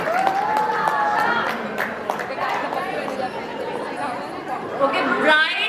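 Wedding guests at a sangeet ceremony applaud and cheer amid steady crowd chatter, the clapping and voices blending into a continuous loud hubbub, with a brief swell near the end.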